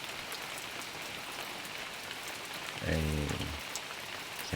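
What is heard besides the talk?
rain falling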